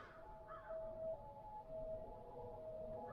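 A faint, steady siren wail drifts in from far away, rising and holding its tone over low background rumble.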